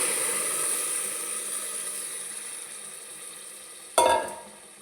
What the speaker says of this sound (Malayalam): ഞാൻ കുടംപുളി തിളപ്പിച്ച് വെച്ചിട്ടുണ്ട്. അത് അങ്ങോട്ട് ഒഴിച്ചു കൊടുക്കാം പുളിയോടുകൂടി